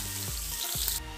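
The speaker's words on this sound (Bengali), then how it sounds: "দেখছেন গাজর আর বিনসটা হালকা ভাজা হয়ে গেছে" Chopped carrots and beans fry in oil in a pan with a loud, continuous sizzle heard up close, dropping slightly toward the end.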